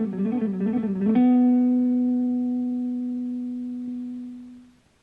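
A quick run of picked guitar notes ripples for about a second, then one note rings out, sustaining clean and steady for several seconds before fading away, loud and close with no talking.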